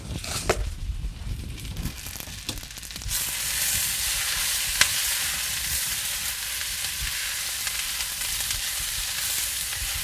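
Vegetables for a cheese steak sizzling hard in a hot pan, a loud steady hiss of frying that swells after a few quieter seconds of clatter, with one sharp pop near the middle and no talking.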